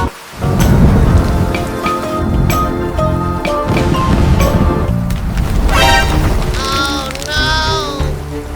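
Cartoon rain and thunder sound effect: steady heavy rain with rolling thunder rumbles throughout, loud and continuous, with musical tones layered over the storm toward the end.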